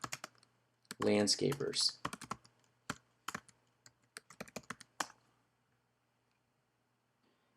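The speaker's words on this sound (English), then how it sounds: "We're going to type in" Rapid bursts of computer keyboard typing in a quiet room, clustered keystrokes for several seconds then sparser taps trailing off, with a single word spoken briefly over them.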